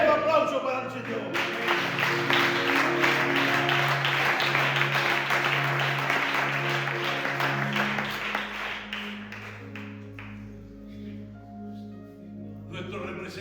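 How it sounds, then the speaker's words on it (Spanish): Church congregation applauding during a Spanish-language sermon, clapping building quickly and holding for several seconds before tapering off, with voices and sustained musical tones underneath. "Un aplauso para el Señor."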